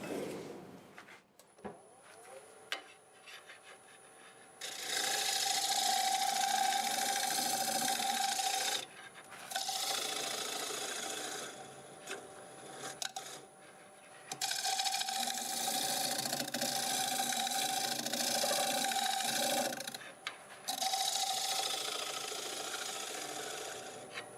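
A woodturning scraper is sharpened to raise a fresh burr, with loud steady grinding in several long passes separated by short breaks and a faint high whine running throughout.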